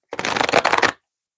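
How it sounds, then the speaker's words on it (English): A deck of tarot cards gets one quick riffle shuffle, a close, crisp burst of rapid flicking lasting under a second, then silence. "I'm just going to do them another shuffle."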